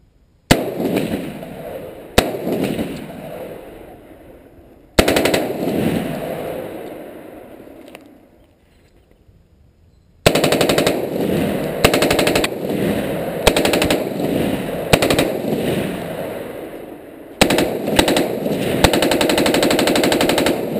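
A FERFRANS SOAR-P tactical AR short-barreled rifle firing on full-auto outdoors, with several loud, sharp bursts of rapid shots. Pauses and echoing decay separate the bursts, and later strings run long and continuous.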